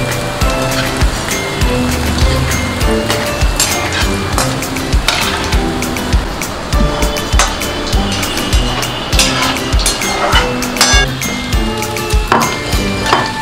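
Lotte (Bombay duck) fish fingers sizzle and crackle steadily in hot white oil in a wok, a loud continuous frying hiss with scattered pops and occasional utensil clinks, no voices.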